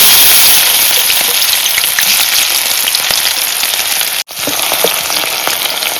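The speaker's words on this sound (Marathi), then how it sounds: "तेल तापला मी आता कांदो टाकते फोडणी" Chopped onion sizzles steadily in hot oil for a tempering while cooking brinjal, a loud continuous crackling hiss with a brief break near the end.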